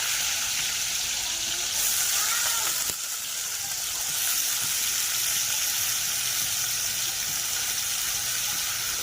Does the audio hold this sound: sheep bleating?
no